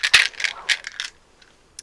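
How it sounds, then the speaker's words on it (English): Dice clatter and tumble on a hard surface in a quick cluster of bright clicks, then settle with a couple of faint final taps. "So we're going to be rolling the 4th set of dice for you."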